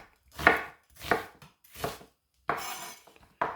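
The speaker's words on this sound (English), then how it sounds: "cut these onions" A knife chops onions on a cutting board for garlic-and-onion prep in a broccoli soup recipe, giving five sharp, separate strokes at a slow, uneven pace, close and fairly loud with no talking.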